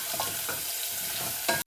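Peanuts frying in hot oil in a home kitchen pan, a steady close sizzle with soft stirring scrapes throughout and a brief louder crackle near the end.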